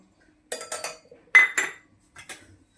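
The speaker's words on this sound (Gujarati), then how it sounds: "આ જે દૂધ લીધું છે એમાં આ પંજાબી મસાલો એમાં દૂધમાં મિક્સ કરવાનો છે" A spoon stirs Punjabi masala into milk in a metal vessel, giving several close, sharp clinks in short bursts separated by quiet pauses.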